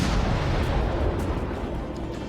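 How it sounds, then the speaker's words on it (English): A destroyer blowing up in a naval warfare game: a dense, rumbling explosion with crackling bursts, loud and sustained before slowly fading. "Enemy destroyer blown up."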